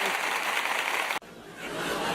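Applause from a live audience at a sketch artist's birthday show, a dense loud wash of clapping that cuts off abruptly, then softer clapping and crowd noise carrying on.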